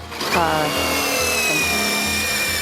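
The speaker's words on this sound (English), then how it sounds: "he's just drilling holes in it" An electric drill bores holes through bent iron, a loud close whine that rises in pitch at the start and then holds a steady tone with slight dips as the bit cuts through the metal.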